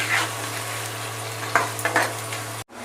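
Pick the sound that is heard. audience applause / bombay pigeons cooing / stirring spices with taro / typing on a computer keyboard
stirring spices with taro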